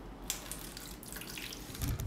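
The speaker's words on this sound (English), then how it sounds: "Pour my water in carefully." Water poured carefully into a pan lined with tinfoil and weighted down, a steady trickling splash that swells near the end.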